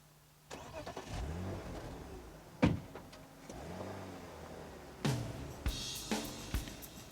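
Electric windows on a 1999 BMW 3 Series Coupe whir in several rising and falling motor runs inside the cabin, broken by a few sharp clunks, close and with no talking.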